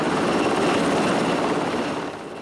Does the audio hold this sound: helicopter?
yes